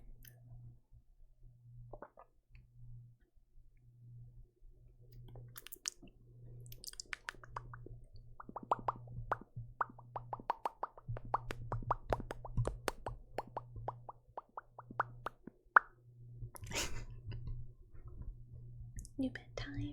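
Close, soft ASMR mouth sounds: wet clicks, pops and squishy smacks in quick irregular bursts, growing denser midway, with quiet whispering and a low hum underneath.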